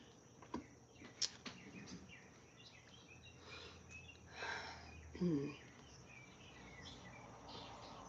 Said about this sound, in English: I apologize if you hear a lot of the birds singing this morning.